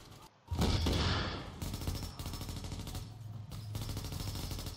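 Rapid automatic gunfire in the video game Tom Clancy's The Division, a loud sustained burst of shots close up followed by further bursts in a steady rattling rhythm, with no talking.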